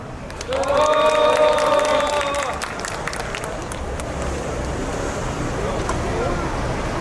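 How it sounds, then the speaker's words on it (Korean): Outdoor crowd applause at a construction workers' rally at Suwon Station, a loud burst of clapping that follows a short tonal sound and then settles into a steady, continuous patter. "다시 한번 큰 박수 부탁드리겠습니다"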